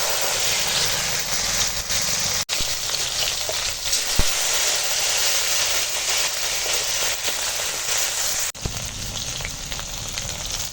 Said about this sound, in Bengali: এখন ঢ্যাঁড়সগুলোকে ওই তেলের উপর দিয়ে দিচ্ছি